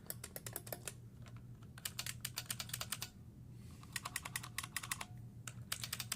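Typing on IBM Model F and Beam Spring mechanical keyboards: close, crisp key clacks in quick bursts separated by short pauses, over a faint low hum.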